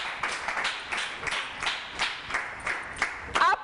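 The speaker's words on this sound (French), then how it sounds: "Merci d'applaudir très fort pour les membres du jury" A small audience claps for jury members at a reading event: sparse, uneven clapping in separate bursts, moderately close, with a brief voice near the end.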